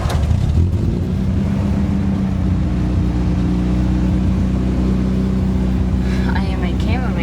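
A 1984 VW GTI engine idles steadily after starting, a continuous low hum with a brief rise in revs at the start and a voice talking faintly over it.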